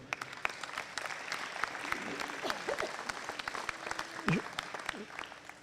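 Audience applause at a 2018 New Year's greetings ceremony in Cocumont, France, steady dense clapping from a crowd with a few sharper claps and a faint voice underneath.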